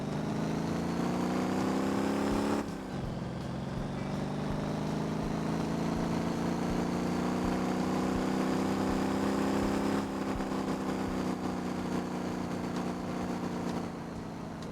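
An overheating car engine in MotorTown runs steadily at a sustained drone with layered harmonics, dropping in pitch briefly near the start before holding a constant loud idle-like hum throughout.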